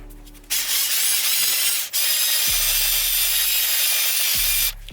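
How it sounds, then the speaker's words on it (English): A power drill whirs and grinds, drilling a pilot hole in two loud bursts with a brief break between, the motor spinning down at the end. "I'm gonna drill a pilot hole first and then just go bigger afterwards."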